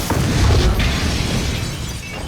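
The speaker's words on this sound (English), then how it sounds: "He throws the crystal at the floor, and the explosion shatters the entire office" A crystal hurled at an office floor explodes with a loud, dense boom, debris rumbling and shattering as the blast blows windows out into the street; the roar stays heavy and sustained without fading.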